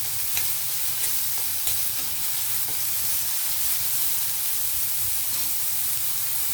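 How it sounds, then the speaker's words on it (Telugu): Onions sautéing in a pan for a ridge gourd coconut fry, a steady close sizzle and hiss with occasional stirring, heard alone. "ఉల్లిపాయలు కొంచెం యాగనిద్దాం."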